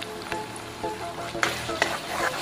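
Onions sizzle and crackle steadily in a hot pan at close range, with occasional stirring clatters over the constant frying hiss.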